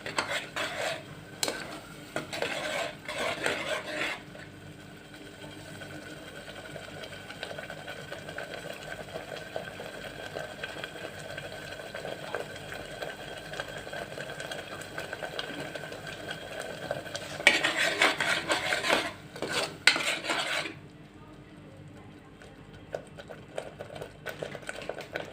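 Ingredients sizzle and scrape in a pan on the stove as they are fried and stirred for a black chickpea chole masala curry, a steady frying hiss with spoon clatter, busier at the start and again near the end.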